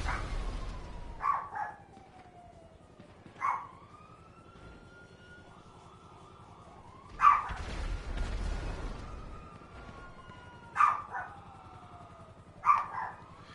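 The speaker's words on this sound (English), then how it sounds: "Shut up, dogs." Dogs bark in short, sharp bursts spaced across the stretch, moderately near, with a faint low hum and quiet gaps between barks.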